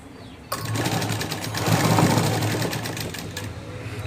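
A sewing machine stitches a cut waistband strip of cloth onto garment pieces, starting after a brief quiet moment with a close, steady, dense mechanical whir that runs continuously to the end.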